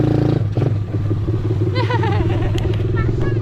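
An ATV bike engine started and idling in gear, a close, steady low rumble with a brief clatter, while someone talks over it.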